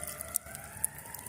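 A distant ambulance siren drifts past a riverside spot on the Milwaukee River, a faint steady wail sitting low under the open-air background noise and fading as it goes by.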